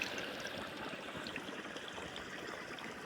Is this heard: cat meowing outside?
no